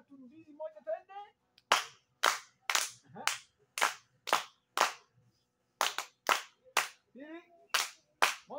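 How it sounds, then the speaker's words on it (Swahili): Children at a church service clap together in a steady rhythm of sharp, loud claps, about a dozen distinct beats with a brief pause midway, following some faint chatter at the start. "Makofi mengi tena."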